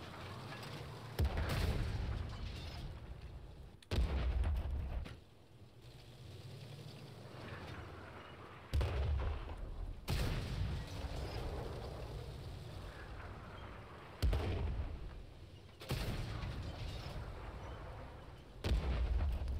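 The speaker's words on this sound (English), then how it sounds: "I'm just gonna watch the artillery shells." Artillery shells firing in the tank game World of Tanks Modern Armor, a series of heavy booming blasts spaced every few seconds, each followed by a rumbling decay under a continuous low background.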